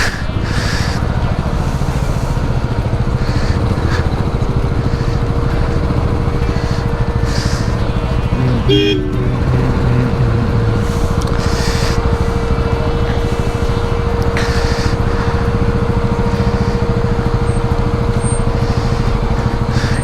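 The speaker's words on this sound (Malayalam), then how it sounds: "വൻ ട്രാഫിക്." Heavy road traffic on the hill road near Top Station between Munnar and Vattavada: a loud, unbroken engine drone heard close, with a sustained tone holding through the second half.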